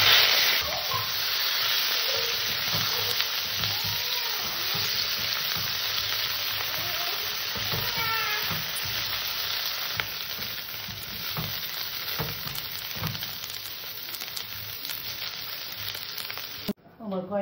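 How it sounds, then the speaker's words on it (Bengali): Sliced eggplant fries in hot oil in a wok with a steady, close, loud sizzle and hiss, broken by occasional stirring scrapes and brief tonal squeaks throughout. "বেগুন কটাকে আমি আগে ভেজে নেব।"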